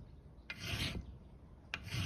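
A hand file rasps across a metal door stop part from a van's sliding door, with two slow, faint strokes, each starting with a short scrape.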